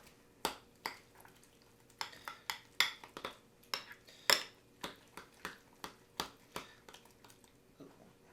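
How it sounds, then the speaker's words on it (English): A spoon clinks against a bowl while fondue ingredients with hot pepper sauce are stirred together, about fifteen sharp, evenly spaced taps, close and fairly quiet. "we're going to mix that all together"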